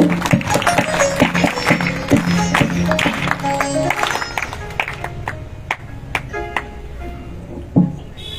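An audience at a satsang aarti in Khalghat, Madhya Pradesh, claps steadily together in rhythm, with ringing metallic tones mixed among the claps.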